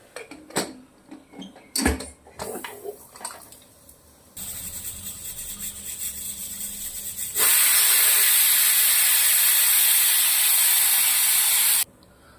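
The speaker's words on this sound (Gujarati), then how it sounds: "કુકરને બંધ કરી દઈશું અને આપણે બે સીટી મારી લઈશું" A few clattering knocks, then a steady steam hiss that swells into a loud, sustained pressure cooker whistle, cooking green beans and potatoes, lasting several seconds before cutting off abruptly.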